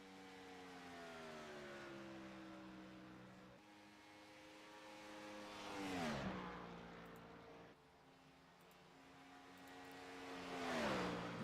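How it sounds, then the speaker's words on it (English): The Budweiser number 8 race car laps a Kansas track in a Gen 4 series race, its engine droning steadily and rising in pitch as it comes around. It roars past twice with a Doppler swoop, loudest at each pass and fading between. "Let's get you some race audio here."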